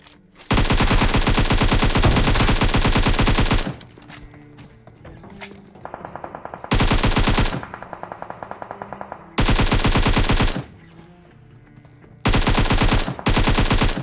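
AKM rifle fire in a battle royale game: several long, loud full-auto bursts separated by short gaps, with quieter game sounds in between.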